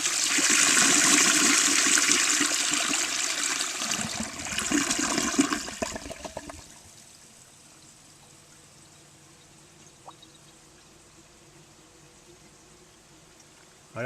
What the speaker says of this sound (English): the 1959 standard modernist will attempt to flush a bowl full of leaves and stems